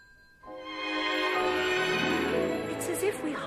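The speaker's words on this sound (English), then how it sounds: "Your phone's ringing." A telephone rings with a steady electronic tone that starts after a brief pause and carries on, while people speak over it.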